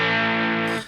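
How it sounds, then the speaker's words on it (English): Electric guitar run through a True North Sugar Shack crunch overdrive pedal: a single sustained distorted chord ringing loud and harmonically rich, then cutting off abruptly near the end, with no talking. "I love that it's a crunch distortion"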